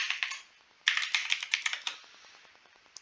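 Typing a Docker command on a computer keyboard: a short run of key clicks, a brief pause, then a faster, louder flurry of keystrokes that trails off into a few sparse taps, close and clear with no voices.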